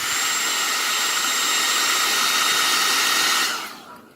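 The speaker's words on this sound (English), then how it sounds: "Hairdryer, guys." A hair dryer blows steadily and loudly, drying freshly sprayed stencil paint on a wiggle wart lure, its whine holding for over three seconds before it is switched off and winds down.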